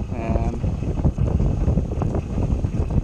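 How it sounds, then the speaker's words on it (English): Wind blows high up a sailboat mast, with Kinsale in the background. Gusty, close buffeting rumbles loudly and unevenly against the microphone. "It's a bit windier up here than down there as well."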